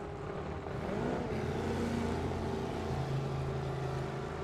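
A race car from the 6-litre class at a Sunraysia circuit meeting roars past with its exhaust fitted with water injection to dull the noise, a loud sustained engine drone with shifting harmonic pitch that rises as it draws near.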